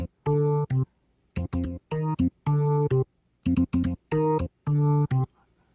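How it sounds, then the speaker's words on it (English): Solo organ playing short rhythmic chord stabs separated by brief gaps, bright and sustained within each hit, with no other instruments or voices. "sound of the organ here."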